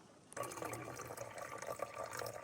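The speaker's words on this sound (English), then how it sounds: "Water." Water flowing steadily at a water source along the Pacific Crest Trail, a close, continuous rushing splash that starts abruptly and carries on alone.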